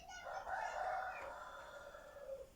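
A single drawn-out rooster-like call, faint and somewhat distant, rising then trailing off over a quiet background.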